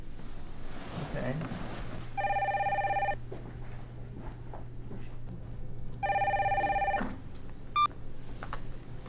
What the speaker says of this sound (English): Could you answer that? The phone? Yeah, the telephone.